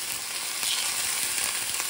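Thin pheasant breasts fry hot and fast in an old frying pan, giving a steady, dense sizzle with faint crackles throughout and no voices.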